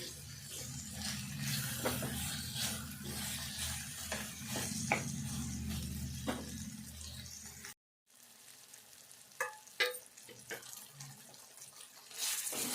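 Dal cooks with softened tomato in a pot. It is stirred with wet scraping and clinks against a steady bubbling, watery hiss, which cuts out briefly midway and then resumes with a few sharper knocks.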